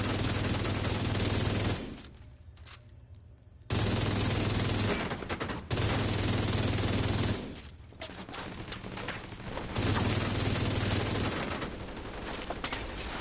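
Bursts of rapid SMG fire from a video game, several long sustained volleys separated by brief pauses, loud and close with no talking.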